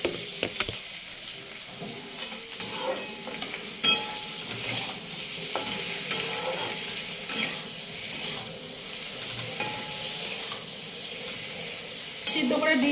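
Egg curry sizzles and frys in a pan while being stirred, with a close, steady hiss broken by sharp clinks and scrapes of the spoon against the pan.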